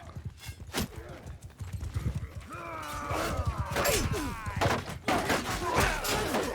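A horse gallops in the battle game Mount & Blade II: Bannerlord, its hooves drumming in a rapid, close clip-clop rhythm. A whinny sounds partway through, amid battle noise and shouted voices.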